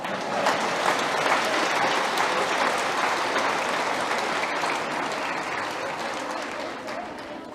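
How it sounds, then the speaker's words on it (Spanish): Steady crowd applause at a Catholic spiritual retreat sermon, dense clapping filling the room for over seven seconds and easing slightly toward the end. "Un aplauso a los que vinieron."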